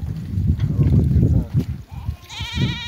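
A flock of sheep in Nakhchivan bleats loudly and close, overlapping wavering cries over farmyard noise, with people talking nearby.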